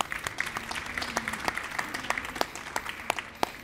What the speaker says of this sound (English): So a round of applause to our speakers.